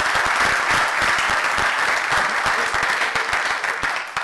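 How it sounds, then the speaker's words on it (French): Dense, steady applause from an audience at a top-management team debate event fills the whole stretch, with closely packed claps and no pauses, fading slightly at the very end. "je pense que vous pouvez vous applaudir"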